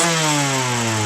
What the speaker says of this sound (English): One more rev.